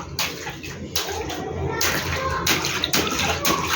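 A child sits bathing in a basin of water, splashing and sloshing continuously up close. The water noise is fairly loud and surges in bursts.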